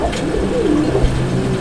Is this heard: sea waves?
no